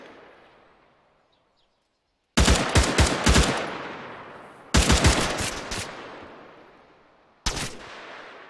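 Machine gun fire in the military video game Arma 3 comes in three loud, sharp bursts of rapid shots, each trailing off into echoing decay, with near silence between them.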